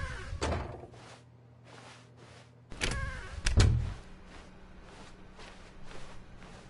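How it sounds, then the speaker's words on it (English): Door sounds from the video game The Stanley Parable, with a couple of heavy thunks and a louder swinging door opening midway over a quiet, rhythmically pulsing office ambience. "When Stanley came to a set of 2 open doors, he entered the door on his left."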